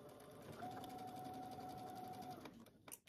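A sewing machine stitches a 5/8-inch seam in a garment, whirring in a steady even run for about two seconds before stopping, followed by a few soft clicks, close and quiet.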